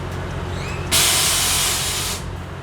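An air suspension compressor on a 2010 Honda Odyssey kicks on with a loud, steady broadband hiss that holds for over a second and then cuts off, over a low idling rumble.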